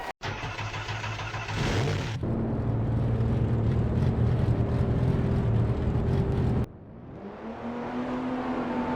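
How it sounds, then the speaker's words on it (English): Race car engines at Auto Club Speedway fire up together and rumble loudly with rising revs, then drop briefly before settling back into a steady, throaty idle. "Racers, start your engines."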